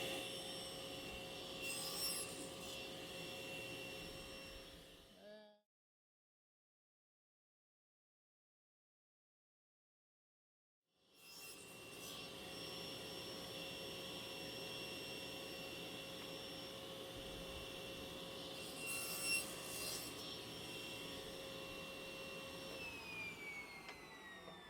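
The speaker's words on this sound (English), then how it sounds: "So now I'll just cut 12 of these piece of poplar" Poplar wood segments are cut with a steady, continuous power-saw whine and rasp, close and moderately loud, which stops abruptly for several seconds of silence and then resumes for a second sustained cut.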